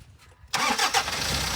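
Toyota Fortuner with a 3.0 litre engine starting remotely with nobody inside: near-silence, then a sudden crank and catch into a steady, moderately loud idle.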